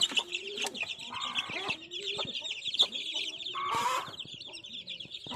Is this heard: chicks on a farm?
yes